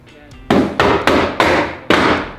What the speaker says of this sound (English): I think if we just get a hammer and just do a little tap